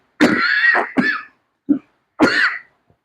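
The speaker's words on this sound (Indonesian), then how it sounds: "Mohon maaf akibat batuk" A single cough followed by a couple of short throat-clearing grunts and another rough cough, close and loud with no talking, during a hadith lecture.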